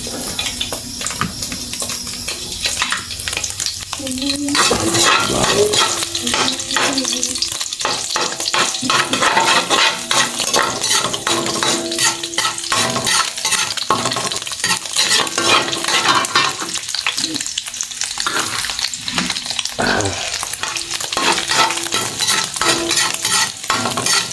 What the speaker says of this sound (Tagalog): Gigisa na tayo ng bawang.